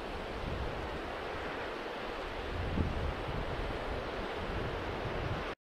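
Atlantic Ocean waves wash against the Cornish coast below a clifftop path, a steady broad roar of surf mixed with wind buffeting the microphone, continuous and fairly loud with no voices.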